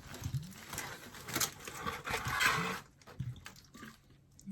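Acetone poured over an epoxy-coated tumbler to soak it, an uneven close trickle and splash lasting a few seconds, then quieter drips and handling noises.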